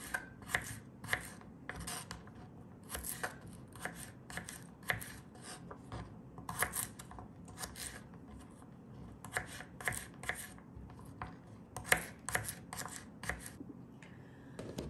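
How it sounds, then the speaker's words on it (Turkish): Rapid, uneven knife taps on a cutting board as garlic is finely chopped, coming in short bursts with brief pauses, close and fairly crisp, no voices. "Bir baş sarımsağı temizledikten sonra arkadaşlar şöyle ufak ufak doğrayalım."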